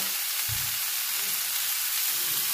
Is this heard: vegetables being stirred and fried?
yes